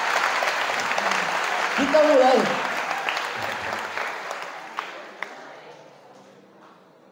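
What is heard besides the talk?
audience applause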